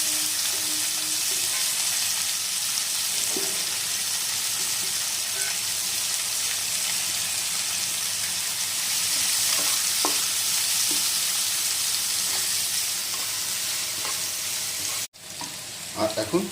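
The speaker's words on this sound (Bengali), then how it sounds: "আর পেঁয়াজটা খুব ভালো করে এখন আমরা ভেজে নেব" Thinly sliced large onions frying in a pan make a loud, continuous crackling sizzle with occasional soft clicks of stirring, cut briefly by a gap near the end.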